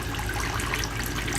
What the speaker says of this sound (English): this took about 1 hour to fill and start draining from these tubes